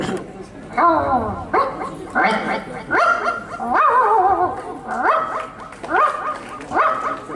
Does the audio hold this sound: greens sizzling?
no